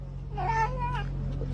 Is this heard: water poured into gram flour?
no